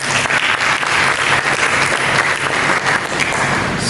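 A church congregation applauds during a worship service, giving loud, dense, steady clapping from many hands that fills the room without a break.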